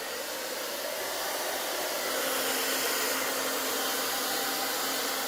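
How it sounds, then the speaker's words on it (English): A hair dryer runs off an EcoFlow Delta or Jackery Explorer 1000 portable power station, drawing about 1,621 watts, giving a steady, loud whooshing blower roar that holds even throughout with no talking. "I'm going to run this hair dryer"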